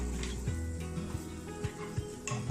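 Small onions sizzle and fry in a pan of spiced oil for mutton salna, a steady close hiss with soft scrapes and stirring clinks breaking through every half second or so.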